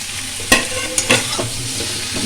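Fried prawns and spinach are stir-fried together in a pan: a close, continuous sizzle with a few sharp scraping strokes of the spatula, no speech.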